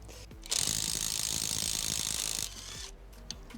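A TEENO 320Nm brushless cordless impact wrench drives a screw in a loud, continuous burst of about two seconds, with short mechanical clicks and quieter handling noise before and after.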